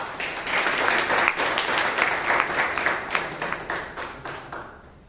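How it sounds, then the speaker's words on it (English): Audience applause at a Bangalore Toastmasters club meeting, a dense steady patter of many hands clapping close by for about five seconds, gradually thinning and fading toward the end. "Let's give him a round of applause for this"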